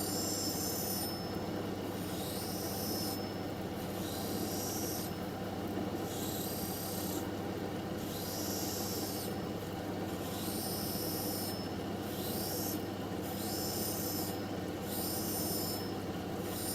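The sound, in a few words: beveling edge of dichroic fused glass cabochon on dopstick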